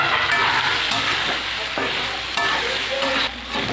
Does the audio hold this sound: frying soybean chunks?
yes